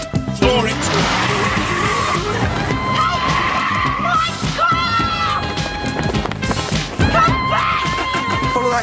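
A car pulls away hard with its tyres skidding and squealing, loud and close, the screech and engine surging in bursts and mixed with other commotion.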